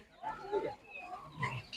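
Piglets at a livestock market squeal and grunt in short, uneven bursts, fairly close but quiet, with a few pauses between calls.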